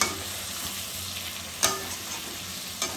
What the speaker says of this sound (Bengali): এবার একটু আমি টমেটো দিয়ে দেবো